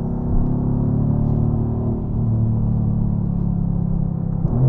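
A 2018 Mercedes-AMG GT R with its bi-turbo engine rumbles low and steady while stopped at a stoplight, with a revving blip of the downshift near the end, close and loud with no voices.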